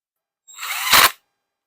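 A power drill fastening a bolt on a lawn mower gives one short whirring burst, rising briefly and stopping, close and loud.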